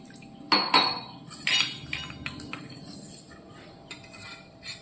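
Curd and bottle gourd curry stirred briskly in a pot, Kathiyawadi Gujarati style: a few sharp metal spoon scrapes and clinks against the pot, then lighter scattered taps and a soft wet stirring sound.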